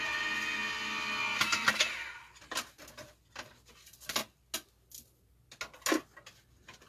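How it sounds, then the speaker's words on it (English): An electric embossing machine pulls a card through a thick 3D embossing folder: a steady motor whir for about two seconds, then a run of irregular clicks and ticks as the folder passes through, close and clear with no talk. "I'm going to send that through my embossing machine. I do have an electric one,"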